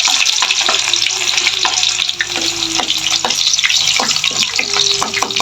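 Onion and garlic sauté in a hot pan for ginataang langka with sardines, a loud close crackling sizzle with repeated sharp stirring clacks and scrapes.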